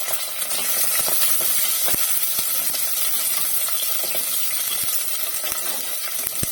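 Chopped small onions and curry leaves sauté in a hot pan, giving a steady broadband sizzle with scattered small pops and clicks, close and continuous with no talk.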